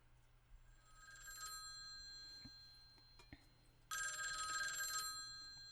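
An old-style telephone bell rings in a video game, two bursts of loud metallic trilling separated by a pause, with faint ticks between and quiet background hum.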